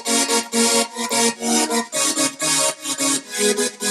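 Electronic remix drop with piano-like synth chords split into short, rhythmic stabs, pulsing in a bright, dense pattern at steady tempo with no voices.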